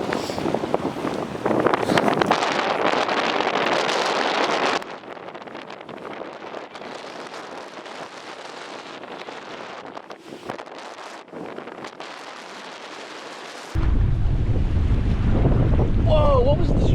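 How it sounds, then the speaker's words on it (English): Heavy wind gusts of a severe thunderstorm in New Jersey roar and buffet the microphone, loud at first, easing to a lower rush, then surging again near the end. "70-mile-per-hour wind gust."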